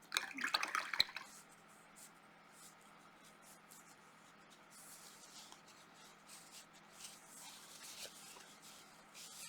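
Watercolor brush swirled in a cup of water during cleaning: a brief burst of splashing and clinking at the start, then faint, soft swishing and dripping in a quiet room.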